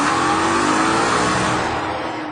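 A Maserati GranTurismo V8 revs hard toward 7,100 RPM as it accelerates, a loud, close, continuous engine howl that holds steady, then fades slightly as it pulls away.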